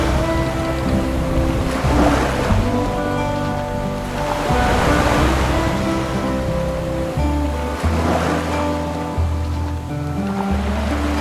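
A sailing boat motors along with both engines running at about 1,800 revs, giving a loud steady engine drone with tonal hum mixed with rushing water and wind, up close.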